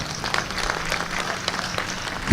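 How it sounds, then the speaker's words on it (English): Audience applause for the chancellor and vice chancellor at a university graduation ceremony of Mbarara University of Science & Technology: a dense patter of many hands clapping at moderate volume, steady for a couple of seconds. "So I am going to ask you to applaud our dear Chancellor and Vice Chancellor one more time."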